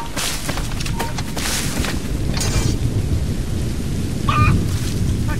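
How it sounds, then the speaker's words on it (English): A thunderstorm in Assassin's Creed Rogue brings dense steady rain with low rumbling thunder throughout, loud and continuous, with a brief tonal alert-like sound near the end. "The storm's getting worse."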